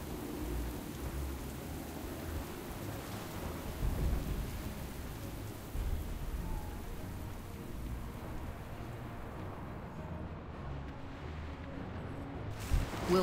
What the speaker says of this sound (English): Captain, we can't weather this storm for long.